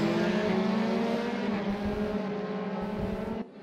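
A DTM race car from the 2016 DTM class running with DRS open at Suzuka GP in the video game RaceRoom, a loud, steady high engine drone that holds near constant and then cuts off abruptly near the end.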